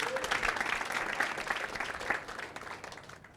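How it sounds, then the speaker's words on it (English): An audience applauds at a live pitch event, with dense, steady clapping from a room of people, loud at first and then gradually thinning and fading out. "Let's give her an applause."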